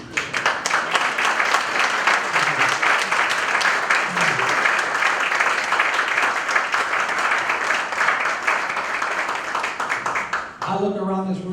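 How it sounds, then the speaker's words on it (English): Room of attendees at a men's health summit at a Boston community health center gives a long, steady round of applause honoring the center's president, ending as a voice begins to speak. "you deserve a round of applause"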